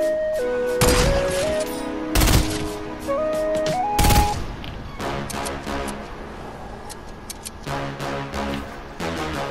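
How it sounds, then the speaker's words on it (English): Sniper rifle fire in Fortnite on PS4, a few sharp loud cracks spaced a second or two apart over game music and background effects. "That was a really nice snipe."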